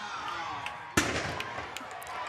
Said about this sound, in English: And there goes the cannon from the National Guard.